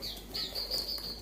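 A bird fresh from Alas Purwo stirs inside its shipping box, giving brief soft rustles and flutters with a few thin high chirps, faint and close.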